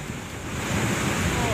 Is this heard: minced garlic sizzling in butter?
no